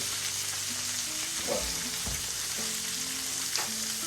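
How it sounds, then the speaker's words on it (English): Steady crackling sizzle of meat searing in a hot pan, loud and continuous, with a couple of soft clunks of utensils. "Put that steak down, you guys can hear a nice little char sizzle going."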